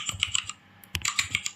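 Keys clatter on a computer keyboard as a MySQL insert command is typed, two quick bursts of close, crisp keystrokes separated by a short pause, with no talking.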